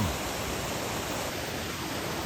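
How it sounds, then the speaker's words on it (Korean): Small waterfalls beside a mountain trail up Sinbulsan in the Yeongnam Alps rush in a continuous, even roar of water, close and steady with nothing else audible. "가는 입구서부터 이렇게 조그만 폭포들이 있네요"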